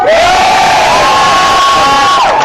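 Large crowd at a protest march in Wellington cheering and whooping loudly, a dense sustained roar of many voices close by, fading near the end.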